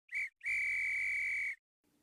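A virtual agent in a sound propagation simulation whistles twice, first with a short clean tone, then with a longer sustained one, both steady-pitched, loud and isolated against silence.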